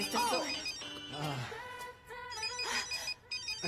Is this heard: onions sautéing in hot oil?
no